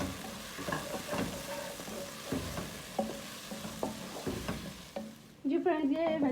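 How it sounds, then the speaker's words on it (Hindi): Chopped vegetables and capsicum sauté in a hot pan for white sauce pasta, a steady sizzle broken by repeated scraping stirs, close and clear, with a brief louder rustle near the end. "ये वेजिटेबल्स थोड़ी सी सौते हो गई हैं।"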